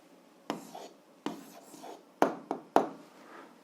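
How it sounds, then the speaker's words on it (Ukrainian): Pen or chalk strokes scratch out an answer to an algebra exercise in several short bursts, close and crisp, with brief pauses between the marks. "пишемо відповідь"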